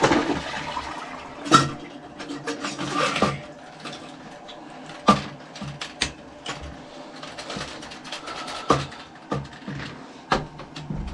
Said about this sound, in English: One more flush.